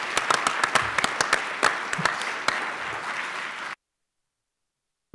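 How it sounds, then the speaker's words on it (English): A press conference crowd applauds the introduction of Coach Ed Lamb, the new Northern Colorado football coach, with dense, steady clapping and a few sharp claps, then cutting off abruptly into silence. "Let's give Coach Lamb a big round of applause."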